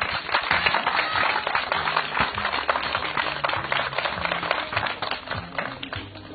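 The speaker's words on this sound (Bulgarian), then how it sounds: "И искам вашите бурни аплодисменти за този успех" A school hall full of graduates and guests applauds their exam success, a loud, continuous patter of clapping from many hands with sharp individual claps standing out, muffled and band-limited, with faint voices underneath.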